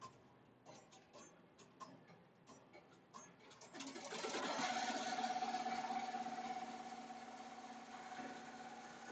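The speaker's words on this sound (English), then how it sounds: "Sewing and trimming like a champ" A Melco Summit embroidery machine sews with a quick, steady mechanical chatter, first in light rapid ticks, then settling into a louder continuous whirring hum for the rest of the stretch.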